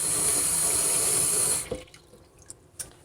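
One cup of warm water pours steadily into a saucepan for about a second and a half, a loud, close, rushing stream that cuts off abruptly, followed by a few faint drips.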